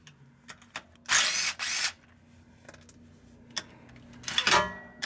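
Impact tool on a 1994 Ford Explorer Limited fill plug: two loud broadband bursts of rattling hammering near the start and another cluster near the end, separated by scattered clicks and clanks of handling in a quiet garage.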